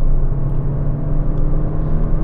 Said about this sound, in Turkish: vites küçültüp dip gaz yapıyorum.